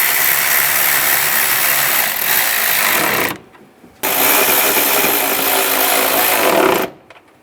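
A ratchet tightening the bolts on a radiator cooling fan assembly of a 2011-2018 Ram 1500, a loud continuous buzzing clatter lasting a few seconds, a brief pause, then another long run.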